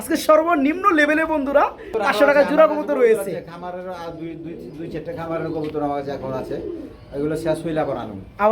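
Pigeons coo in a loft where many pairs are kept for sale, their soft, rolling calls running under close, continuous conversation between people.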